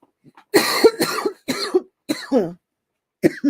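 A run of harsh coughs close up, several bursts in quick succession with short pauses, then one more cough after a gap.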